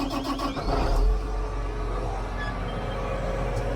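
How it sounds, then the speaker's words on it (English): A vehicle's air compressor runs steadily after the key is turned on, a constant mechanical hum with a brief louder surge near the start, close by and with no talking. "Good, there's the air compressor."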